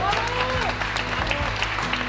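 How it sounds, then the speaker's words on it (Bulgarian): Guests at a wedding ceremony break into steady applause, with scattered clapping and some murmured voices mixed in underneath. "Аплодисменти!"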